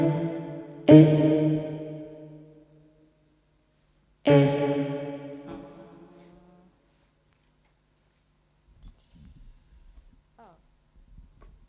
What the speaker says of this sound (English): my pedal has actually now changed to reverb again